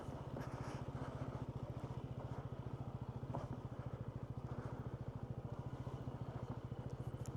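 A 2026 Honda ADV 160 scooter engine runs off-road downhill with a steady, rapid putter and a rhythmic pulsing. The sound is low and fairly quiet, with faint rattles over it.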